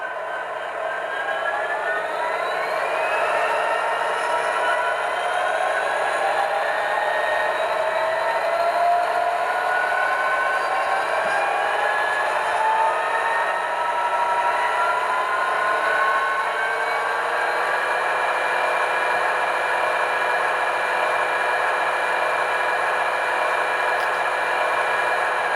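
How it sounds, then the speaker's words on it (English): Diesel prime mover sound from an Athearn Genesis 2.0 SD90MAC HO model locomotive with a Tsunami 2 sound decoder, a steady humming engine drone whose tone shifts gradually as it revs, continuous and close throughout. "So if you want to hear the prime mover,"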